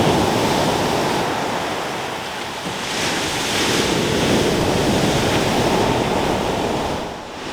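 Surf breaking steadily on a beach on The Lizard in Cornwall, a continuous loud wash of waves with gusting wind buffeting the microphone, swelling and easing slightly with no voices.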